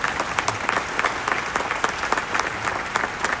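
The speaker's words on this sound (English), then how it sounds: "How about a big round of applause for our first responders?" Audience applause for first responders such as police, National Guard and EMS at a public event, a steady wash of many hands clapping with scattered sharper claps throughout.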